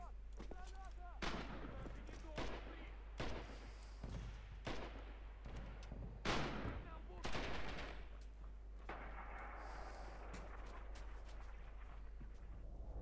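Gunfire in the WWII shooter Red Orchestra 2: repeated loud machine-gun bursts and rifle shots crack out at irregular intervals, some close and heavy like artillery thumps, over constant battlefield noise.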